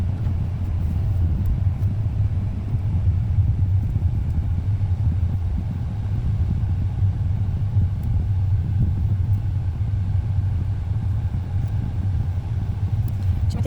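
Steady low engine rumble from inside a car driving and turning left out of a park, constant and even throughout with no speech.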